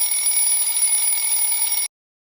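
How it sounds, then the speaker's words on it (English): An alarm clock rings loudly and continuously with a steady electronic tone for nearly two seconds, then cuts off abruptly into silence. "His alarm clock rings loudly."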